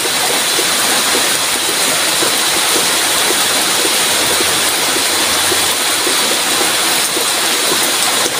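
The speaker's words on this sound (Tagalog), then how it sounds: "Unti-unti nang nawawala yung ulan." Steady broadband hiss of rain falling outdoors, loud and unbroken throughout, with no voices over it.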